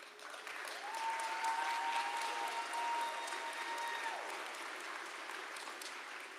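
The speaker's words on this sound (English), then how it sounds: "give your parents and your teachers and this faculty a round of applause" Graduation audience in a college ceremony hall applauds steadily, a broad wash of clapping that swells then holds at moderate loudness for several seconds, with a faint sustained tone running under it.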